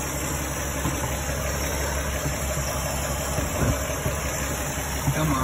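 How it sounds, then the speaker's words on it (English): A 1950 Chevy engine idles in a steady low rumble with a faint rhythmic knock, close by, with a steady high whine above it and a couple of brief clunks near the end. "So now it's idling."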